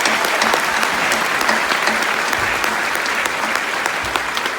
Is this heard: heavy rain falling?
no